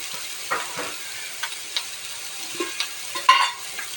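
Fish curry of vam (eel) fish simmering toward a boil in a pot, with soft bubbling, light sizzle and intermittent scrapes and clinks of stirring, fairly quiet and close.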